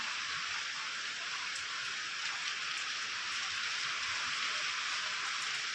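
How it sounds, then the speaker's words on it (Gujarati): Steady monsoon rain falls in Dwarka, Gujarat, with a dense, even hiss, close and constant throughout, with faint scattered drips on a surface and no voices. "ફાઇનલી આજ વરસાદ આવી જ ગયું."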